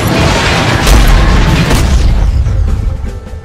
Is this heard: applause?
no